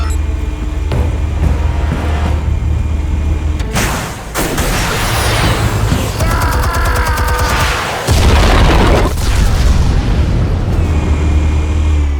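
Explosion in the video game Batman The Telltale Series: a deep booming blast with rumbling low end and debris-like crackle, followed by a sustained heavy roar and a second big low surge, loud and dense throughout.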